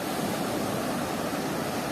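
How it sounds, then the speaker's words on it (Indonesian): Ocean waves at Tanjung Setia beach wash in a continuous, dense hiss of surf, loud and steady with no distinct breaks or voices. "Ini ombaknya."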